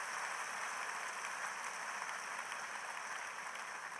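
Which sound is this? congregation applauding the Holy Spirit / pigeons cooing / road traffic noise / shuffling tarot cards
congregation applauding the Holy Spirit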